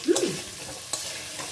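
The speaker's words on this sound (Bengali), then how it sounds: "এভাবে আমি একদম সুন্দর করে আলুটা ভেজে তুলে নেব" Potatoes frying in mustard oil in a wok over medium flame, a steady close sizzle with two brief spatula scrapes near the start and the middle.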